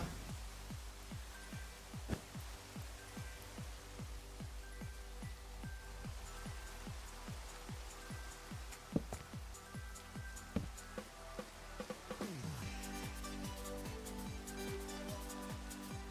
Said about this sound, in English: There's a lot of rain, but I love how it sounds.